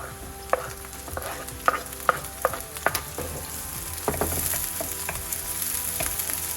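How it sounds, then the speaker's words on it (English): Green chilies fry in a pan with a steady sizzle, while a utensil stirs and taps against the pan in several sharp knocks, close and moderately loud with no talking. "Just gonna fry it till we get the aroma out."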